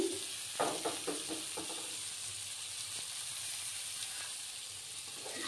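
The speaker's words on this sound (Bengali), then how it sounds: "আমার ফ্রাই করা হয়ে যাচ্ছে।" Onion and egg do-peyaja frying in a pan, a continuous soft sizzle with a short burst of utensil knocks near the start, then steady hiss.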